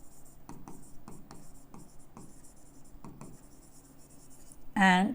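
Pen writing on paper during an accounting lesson, soft close scratches and taps in a steady rhythm, ending with a brief louder sound.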